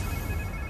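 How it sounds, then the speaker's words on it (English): A phone ringing inside the Spider-Man 2 video game, a steady electronic ringtone with sustained tonal lines over a low background rumble, moderately quiet and continuous through the short moment. "Sounds like somebody's phone."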